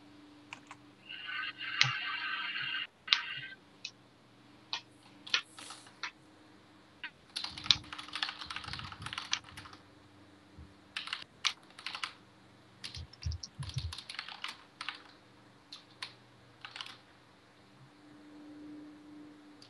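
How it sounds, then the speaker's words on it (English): Rapid clicking of keys on a computer keyboard, irregular bursts of close taps with brief pauses between flurries, fairly quiet over a low hum with no voices. "I am typing."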